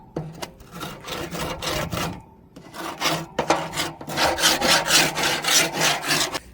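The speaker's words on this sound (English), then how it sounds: "it has a scraper, so you can scrape off all the stuff that is stuck on there" A grill brush's built-in scraper rasps across a grill grate in repeated rough strokes, grouped in bursts with brief pauses and growing faster and more even toward the end, close and fairly loud with no talking.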